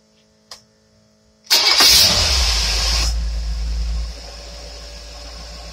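After a single click, a car engine fitted with a Quick Fuel four-corner idle carburetor cranks and fires loudly nearby, then settles into a steady low idle.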